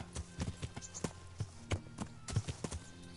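A horse walks in the Kingdom Come: Deliverance video game, its hooves clip-clopping in an even, moderately close rhythm with no voices.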